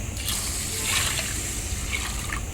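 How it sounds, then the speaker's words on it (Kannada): Water trickles and splashes onto washed rice set aside to soak, a close, steady pour with a few brighter splashes over a soft background. "ಇದಕ್ಕೆ ಇವಾಗ ನೀರು ಹಾಕಿ ನೆನೆಲಿಕ್ಕೆ ಇಡಬೇಕು ಮೂರು ಗಂಟೆ ಹೊತ್ತು ನೀರು ಹಾಕ್ತೇನೆ"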